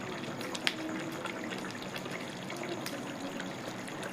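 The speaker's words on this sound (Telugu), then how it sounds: "మసాలా నీళ్ళు పెట్టి బాగా కలబెట్టుకొని" Masala water poured into a pot of chicken curry and stirred in, a soft, steady trickling and liquid wash at moderate distance with one small clink early on and no talking.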